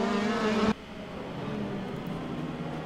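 Red Bull race cars battle for position in a sim racing game, their engines a steady mechanical drone that cuts off sharply to a lower, continuous engine hum.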